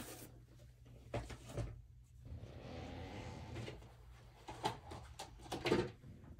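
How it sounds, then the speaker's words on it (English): Creaks and knocks from a noisy chair come through in several short bursts scattered over the clip, with quiet stretches in between, all fairly close and moderately loud, and nobody talking. "Sorry, my chair's noisy."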